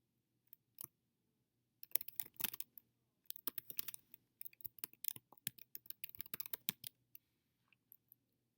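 Someone types a comment on a computer keyboard: scattered single keystrokes, then bursts of quick, irregular clicking, close and clear in an otherwise quiet room.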